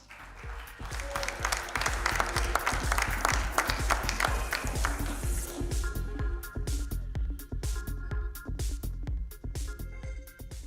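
Steady applause from a conference audience at a women's business event, dense clapping that thins into scattered individual claps toward the end, moderately distant with no talk over it.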